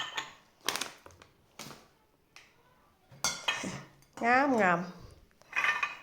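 A glass jar clinks and knocks as chili is put into it, a few sharp, close taps and rattles spread out with pauses, with a person speaking between them.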